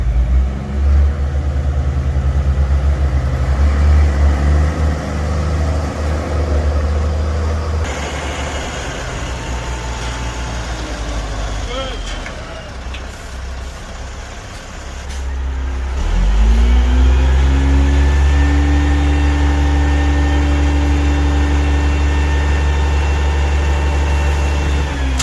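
Truck engine idling at a dirt pad installation site for lot development, a steady low diesel rumble that fades midway, then returns strongly and close with a constant drone.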